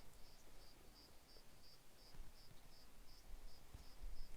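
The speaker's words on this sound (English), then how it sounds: "Little crickets" Faint, regular chirping of crickets pulsing in a steady rhythm over soft outdoor background noise in acacia woodland in the evening.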